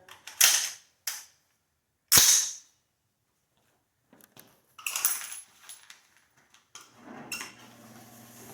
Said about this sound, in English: So let's put 20 more rounds through it.